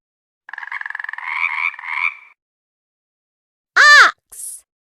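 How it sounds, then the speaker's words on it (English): A frog croaks in a run of rapid pulsing rattles, followed by a sharp louder call and a brief higher squeak, all clear and close with nothing else around. "Frog."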